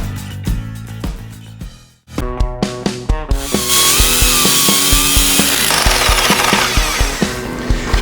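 A power drill with a 10 mm bit boring into a wall while an awning is being installed, loud close grinding with rapid hammering pulses, a brief pause near two seconds, then a sustained, harsher whine.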